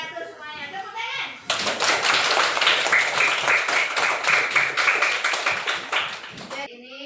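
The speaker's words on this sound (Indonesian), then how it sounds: "Tepuk tangan." A classroom of children clap their hands together in a dense, lively burst of close claps lasting several seconds, with young voices mixed in before it fades.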